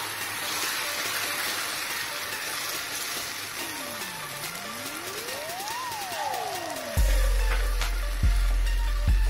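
Tomato puree sizzles and fries steadily with browned onions in a hot pan for a mushroom do pyaza, a loud continuous hiss close up, with a low hum and a rising and falling electronic tone in the background.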